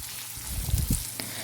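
Chopped onions and curry leaves sauté in a pan, a short soft sizzle with a couple of low stirring bumps.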